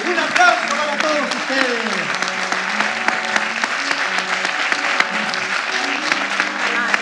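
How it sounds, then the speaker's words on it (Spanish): Warm, sustained theatre applause for the directors of Teatro Puerto Montt, with many hands clapping steadily while voices call out over the top. "¡Un aplauso para todos"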